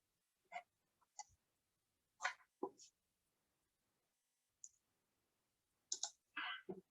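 A computer mouse clicks in short, separate bursts: several crisp single and double clicks spread across a few seconds, close and fairly quiet, with near silence between them and no talk.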